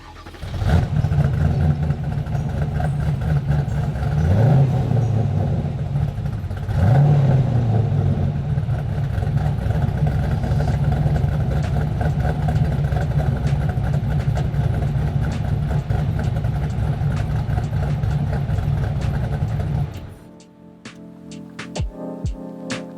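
A Factory Five GTM starts with a button and settles into a loud, steady, rumbling idle, with two brief rev blips early on. The engine cuts off near the end and a few sharp clicks follow.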